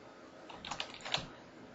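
A few quick keystrokes on a computer keyboard while entering a field name in FilePro database software, soft and close, a short burst of taps with no talking.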